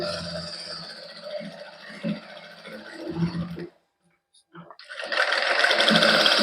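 A sewing machine stitches woollen fabric while a shirt collar is made, whirring in bursts that stop briefly and then resume louder, with a voice talking over it.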